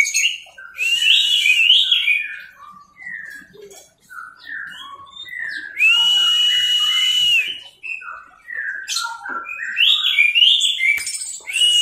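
An orange-headed thrush sings alone in bursts of bright, varied whistled phrases with short pauses between them, clear and close.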